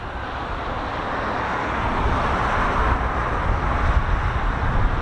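Two KC-135 aircraft pass over an RAF airfield as a steady broadband jet roar that slowly builds in loudness and holds near and heavy throughout.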